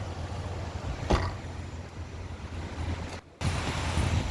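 Seawater from high-tide waves floods across Mumbai's coastal road, heard as a steady broadband wash of surf and wind-blown roar with a brief dropout near the end.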